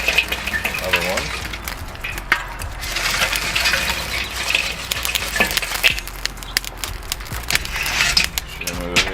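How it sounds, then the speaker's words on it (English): Charcoal coals tipped from a hot chimney starter onto other coals in a Weber charcoal kettle grill, a busy run of clinking, scraping and rattling, fairly close, continuing steadily without talk. "you're going to move coals over here on top of these"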